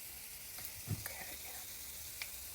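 Keto onion rings fry in a hot pan with a steady, soft sizzle of oil. A few brief pops and taps come as rings slide in, and a voice is heard faintly.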